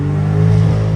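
A Dodge Charger Scat Pack engine revs hard while the car is driven, a loud, steady low growl that swells slightly midway and holds throughout, with no talking.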